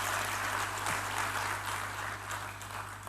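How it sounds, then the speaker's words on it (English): A summit audience applauds its sponsors at a Ghana CEO business gathering, a dense, sustained wash of clapping that holds steady throughout with a faint low hum underneath. "A round of applause for our sponsors thus far."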